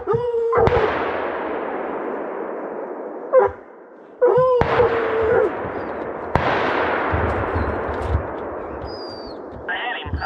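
Rifle shots fired at a deer during a hunt, three sharp loud cracks spread over about ten seconds, each followed by a long rolling echo through open country, with faint bird calls between them.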